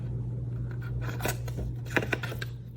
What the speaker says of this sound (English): we're actually gonna snip off this score line on each side